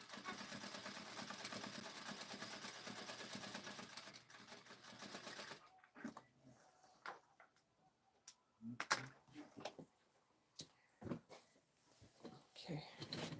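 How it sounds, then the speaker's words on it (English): A sewing machine basting a knit sleeve hums steadily at a fast, even stitch for several seconds, then stops, leaving quiet handling clicks and rustles of fabric. "Still basting."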